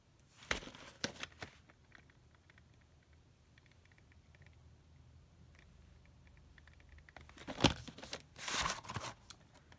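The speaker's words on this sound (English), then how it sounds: "I'm definitely going to do the opening of this tape" Close crinkling and tearing of plastic wrap as a rare VHS tape is unwrapped, in scattered bursts at the start and a louder flurry near the end, with quiet handling between.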